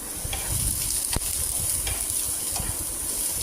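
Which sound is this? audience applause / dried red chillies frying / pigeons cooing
dried red chillies frying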